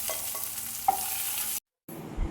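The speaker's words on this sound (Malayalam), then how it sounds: "ഒരു തക്കാളി മുറിച്ച് ഇങ്ങനെ ഒന്ന് ഫ്രൈ ചെയ്തെടുക്കാം" Cut tomato fries in a pan with a soft, steady sizzle and a few light stirring clicks, broken by a short gap before the frying noise resumes.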